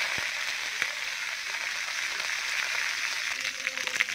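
Mustard seeds frying in hot oil, a soft steady sizzle with scattered light pops and crackles, heard alone with no talking.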